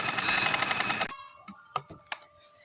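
Domestic sewing machine stitching fabric for a V-shaped overlap neckline, a loud fast rattling whir that stops abruptly, followed by a few faint clicks and taps.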